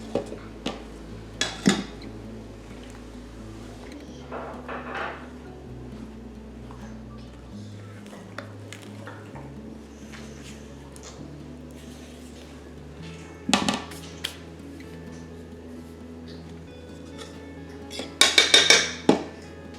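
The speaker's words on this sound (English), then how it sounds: "Now I'm gonna add in 1/2 of the flour mixture. Give that a mix" Flour mixture is stirred into pumpkin dessert batter in a bowl, with scattered clinks and scrapes of a utensil against the bowl, moderately close and intermittent, ending in a flurry of quick taps.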